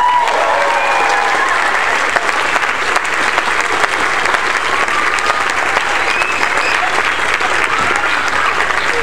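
An audience applauds and cheers steadily for a bluegrass band at a live show, a dense, continuous wash of clapping that holds at full strength throughout.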